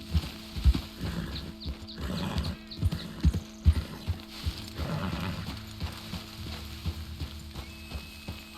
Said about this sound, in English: Get a hold of that horse, Mr. Morgan.